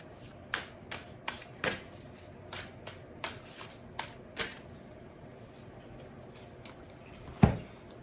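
An Untethered Soul oracle card deck is shuffled by hand in a quiet room, with a series of short, crisp riffle bursts spaced about half a second apart and one louder final tap.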